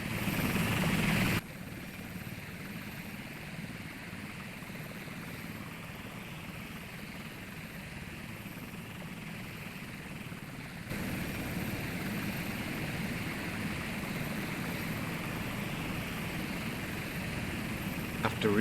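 Helicopters in the Sea Power naval combat game make a continuous rotor and engine drone at moderate volume, steady throughout and growing slightly louder near the end.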